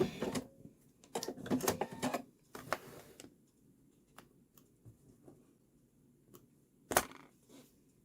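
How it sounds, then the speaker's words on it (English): A sewing machine stitching an angel appliqué with a fixed stitch, heard as short bursts of rapid mechanical clatter separated by quiet pauses, close and fairly faint. "I'm going to overlap my stitches here and use my fixed stitch so that they don't come out."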